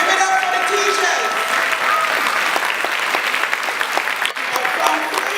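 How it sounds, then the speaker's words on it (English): An audience at the Macademy graduation claps loudly and continuously for the teachers, a dense steady wash of applause with scattered cheers and voices mixed in. "Give it up for the teachers."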